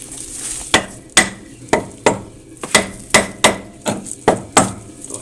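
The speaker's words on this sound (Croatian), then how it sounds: "Evo, ja ću čekićkom." A small hammer tapping on a tractor wheel, about a dozen sharp metallic knocks in an uneven rhythm, loud and close, each ringing briefly before the next strike.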